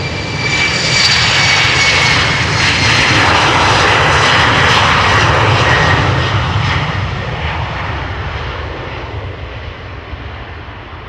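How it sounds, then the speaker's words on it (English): A Boeing 737 jet government aircraft departing Schiphol Airport in Amsterdam roars loudly and steadily, a broad engine rumble that swells then slowly fades as it climbs away, with no talking. "the PHGov, the government 737, should also be departing."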